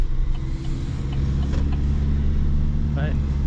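A Chevy Silverado TurboMax four-cylinder engine runs at a steady, low drone inside the cab, loud and constant throughout with little change in pitch.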